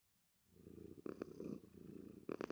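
A video game cat purrs after being fed a cod, a soft continuous rumbling purr close up with a couple of brighter swells, heard alone.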